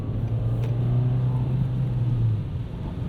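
A 2024 Nissan Versa with a five-speed manual, its engine revved and the revs hanging and slowly falling, a strong steady low drone heard from inside the cabin that fades near the end.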